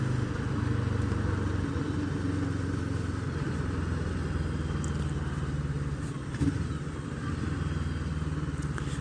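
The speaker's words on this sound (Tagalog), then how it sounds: "May nagmamotor na sa likod natin" A motorcycle engine drones steadily nearby on an expressway, a constant mid-pitched hum with road noise, no talking over it.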